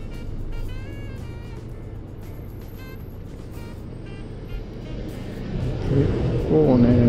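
A large oncoming vehicle approaches and passes on a winding mountain road in southern Nara, heard over the steady wind and engine drone of a Suzuki V-Strom 250 motorcycle, rising louder as it nears at the end.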